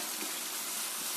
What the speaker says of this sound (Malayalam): ഇനി പോരാത്ത കുറച്ച് വെള്ളം തിളപ്പിച്ച് അങ്ങോട്ട് ഒഴിക്കാം